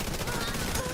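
Rapid gunshots in a video game, a tight burst of repeated cracks at steady high loudness over a dense, noisy game mix, up close.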